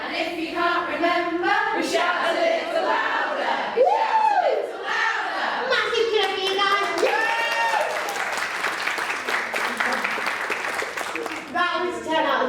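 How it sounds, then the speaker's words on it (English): A group of children shout and cheer loudly at an author event, with rising whoops, chanting and a swelling roar of voices that surges and falls, blending with some clapping. "Massive cheer"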